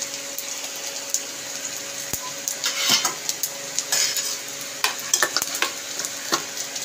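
Bay leaves fry in hot oil in a pan for a cabbage and chicken-bone curry, a steady close sizzle broken by scraping stirs and sharp clinks of a utensil against the pan, with no talking.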